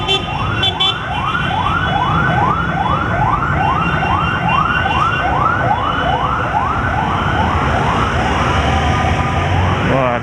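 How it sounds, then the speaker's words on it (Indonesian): An ambulance siren wails in a fast repeating rising sweep, loud and close, over low traffic rumble. "ada polisi ya, polisi ambulan"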